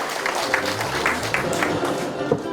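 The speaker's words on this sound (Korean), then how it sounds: "다시 한번 큰 박수 부탁드리겠습니다" Applause from a crowd at an anti-corruption rally held in a newspaper building's hall. Steady, moderate clapping runs throughout with a faint murmur underneath.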